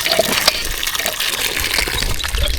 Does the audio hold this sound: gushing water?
yes